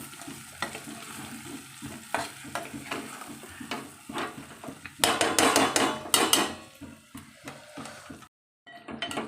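Stuffed eggplant sizzles in a hot pan while a spatula scrapes and stirs in repeated strokes, growing busier before a short pause.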